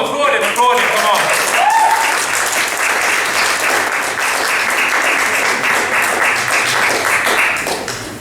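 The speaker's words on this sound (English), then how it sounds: "Right, applaud him, come on." An audience at a live gig bursts into loud, sustained applause that fills the room for several seconds before tapering slightly, with a voice calling out briefly at the start.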